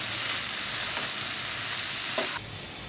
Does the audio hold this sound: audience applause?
no